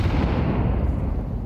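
A grenade explosion in the Counter-Strike video game, a loud, dense low-heavy blast filling the whole short moment.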